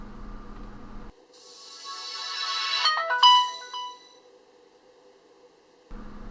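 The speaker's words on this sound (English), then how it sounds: "So here's just a quick boot up of the phone." An LG Optimus G smartphone powering on plays a short bright electronic startup chime of rising tones that swells, peaks and fades, framed by quiet background hum before and after.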